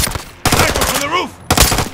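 Sniper rifle shots in Call of Duty: Modern Warfare II during a prison yard mission, two sharp loud blasts about a second apart with a whooshing sweep between them.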